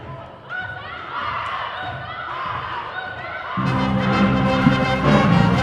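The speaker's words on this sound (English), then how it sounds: "You can hear it's a rowdy crowd today." Noisy crowd of home and visiting fans at a women's college basketball game, Iowa Central against Southeastern, a steady indoor murmur and chatter that swells louder with cheering and shouts toward the end.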